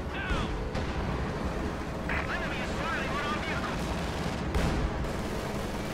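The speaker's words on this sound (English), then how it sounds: "High explosive barrage firing on the MG42 right there." An Su-76 fires a high explosive artillery barrage in a World War II strategy game, heard as repeated booming blasts with sharp bursts near two and four and a half seconds, under a continuous talking voice.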